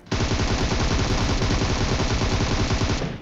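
Sustained automatic gunfire in a battle royale shooter with Groza and M416 rifles, a dense, loud, rapid stream of shots lasting about three seconds and then cutting off abruptly.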